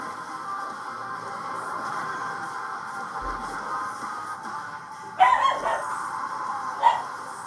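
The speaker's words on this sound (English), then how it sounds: "Sorry, that's just my dog." A dog barks indoors, two short sharp barks near the end over a steady droning background.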